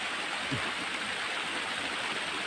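Steady, dense rush of water at Huai Pa Phlu waterfall in Phrao, Chiang Mai, a constant broadband roar with no voices.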